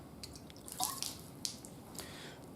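Water trickles and drips while the lid and parts of a Wacaco Nanopresso coffee maker are rinsed, giving a few soft, scattered splashes and drops that are close but faint and quiet.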